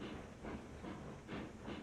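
A train in the Railroads Online video game backs up along the tracks, giving quiet rhythmic chuffs of steam hiss at regular intervals over a low rolling rumble, with no voices.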